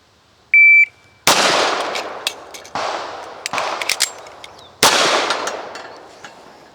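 A 1911 Colt pistol fired in a drill: a short beep sounds first, then sharp, loud gunshots follow in irregular bursts with pauses between them, close to the microphone and without speech.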